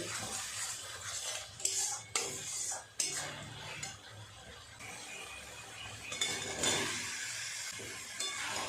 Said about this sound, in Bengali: খুব ভালো করে এঁচোদের সাথে আলুর সাথে মশলাটাকে একটু সময় নিয়ে কষিয়ে নেব